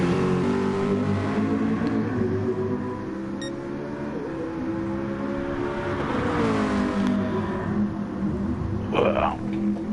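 A race car engine in a racing video game at the Kyoto track, revving and shifting pitch continuously at close range, loud and steady.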